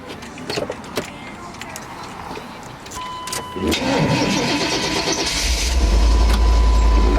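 A truck engine cranks and catches about midway, then settles into a loud, steady idle with rising low rumble; earlier there are handling noises and a faint voice. The truck had been sitting unused for a week and shakes from one tire.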